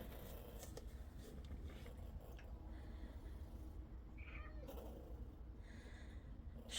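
A cat meows a few times, soft and fairly distant, over a constant low background hum.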